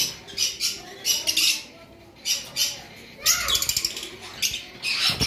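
Pair of pet birds, personata lovebirds for sale, giving repeated harsh squawks and chirps in short bursts, close and loud, with a brief quieter gap midway.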